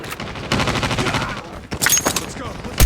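Rapid automatic AK117 rifle fire in the mobile shooter Call of Duty Mobile comes in loud close bursts with short gaps, mixed with game effects and a brief radio-style voice line.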